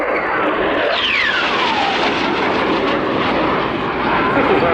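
A Czech Air Force Saab Gripen fighter jet flying at the RIAT 2018 airshow, a loud steady roar with a sweeping engine whine as it passes, while an announcer talks over it.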